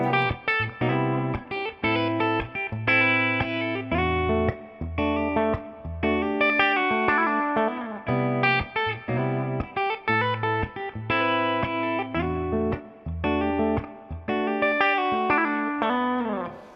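A clean, twangy Gibson Custom '59 Reissue electric guitar on the bridge pickup plays a bright picked riff with chords and single notes, steady and close, with a touch of reverb and no voices.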